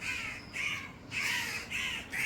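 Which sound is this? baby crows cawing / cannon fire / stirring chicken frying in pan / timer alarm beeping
baby crows cawing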